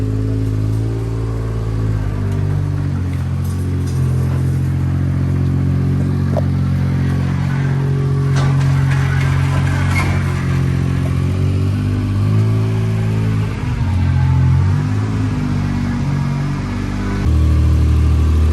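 A Daihatsu Jumbo HiJet mini truck's small engine idles steadily and close, with a deep low throb, slight rises in revs and a little mechanical clatter, running alone without talk.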